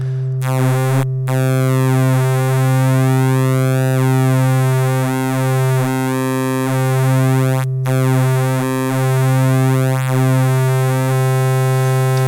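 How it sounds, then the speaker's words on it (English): Synthesizer tones alternate between smooth sine and buzzy square waves, sustained and loud, with sweeping pitch changes and brief cutouts between notes. "Here you have Sine and Square Wave."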